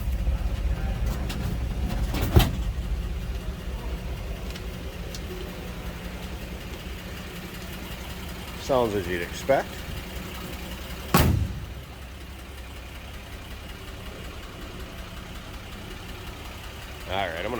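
The inline-six engine of a 1948 Chevrolet 6400 flatbed truck idles in a low, steady rumble throughout, with someone talking briefly over it and a few clunks and knocks nearby.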